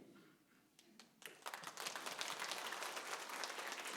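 A church congregation during a Sunday worship service breaks into applause, starting with a few scattered claps and swelling into full, steady clapping that continues to the end.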